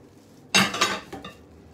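Lao fish salad is tossed with cilantro in a bowl, giving one short burst of utensil scraping and clatter with a softer follow-up stir, close and brief amid quiet.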